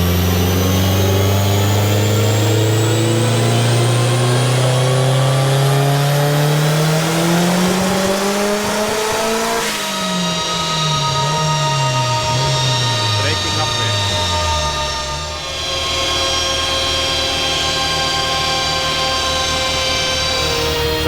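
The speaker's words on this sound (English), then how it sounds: "That was like riding the boost cut there, so pulled out more duty cycle." A Volkswagen Mk2 with a 1.8T turbocharged engine running on ethanol revs hard and loud, pitch climbing steadily then dropping and stuttering as it bounces against the boost cut, with a brief dip mid-run and continuous engine drone throughout.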